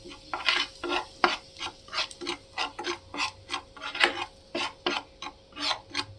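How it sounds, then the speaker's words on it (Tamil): Masala for an egg masala fry sizzles in hot oil on a low flame, stirred in quick rhythmic scraping strokes, close and clear with no talk. "எண்ணெய் காஞ்ச உடனேயே நம்ம வச்சுருக்க இந்த மசாலாவை போட்டுடலாம்."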